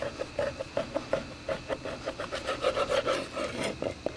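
A knife trims fat off a 45-day dry-aged ribeye roast, a rhythmic rasping scrape repeated in quick, even strokes close by, with no talking over it.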